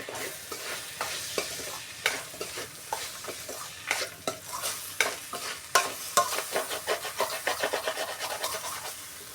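Coconut powder dal is stirred in a hot pan, a spoon scraping and tapping in an increasingly quick rhythm over a low background sizzle, close up and without talk.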